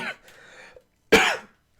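A single sharp, loud cough bursting out close to the mic, preceded by a short stretch of quiet talk.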